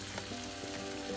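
Eggplant and mixed vegetables sauté in a pan as they are mashed, giving a steady, soft, even sizzle with no voices.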